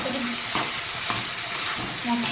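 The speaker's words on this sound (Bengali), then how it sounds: "জল দিয়ে একটু কষিয়ে দেবো আমার মশলা" Spice paste with a splash of water sautéing in a pan for a Bengali cauliflower and stinging catfish curry, a steady close sizzle broken by a few sharp spatula scrapes and stirs.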